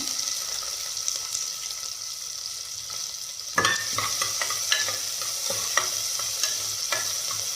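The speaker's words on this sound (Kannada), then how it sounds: "ಈರುಳ್ಳಿನ ಸ್ವಲ್ಪ ಚೆನ್ನಾಗಿ ಫ್ರೈ ಆಗಬೇಕು." Chopped onions frying in a pan for chicken biryani: a steady hiss of sizzling oil, then from midway a run of sharp scraping stirs and utensil clicks, up close with no talk.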